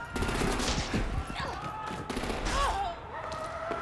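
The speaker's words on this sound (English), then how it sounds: "she just got shot" Bursts of gunshots in the Batman: The Enemy Within video game, several sharp cracks in quick clusters over a steady backdrop of game sound, fairly loud and close.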